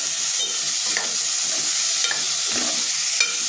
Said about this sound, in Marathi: चणा डाळ टाकून त्याच्यामध्ये परतून घ्यायचं आहे